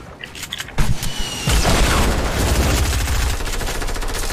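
Rapid gunfire in the video game Fortnite, a dense run of shots and booms that starts after a brief pause and carries on loud and sustained to the end.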